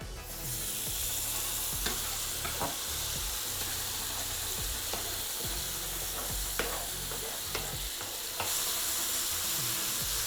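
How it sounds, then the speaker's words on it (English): Hoisin jackfruit frying in oil in a pan over medium-high heat: a steady close sizzle with occasional soft clicks and scrapes, continuous and without voices. "when you're frying down your jackfruit, your Hoisin jackfruit"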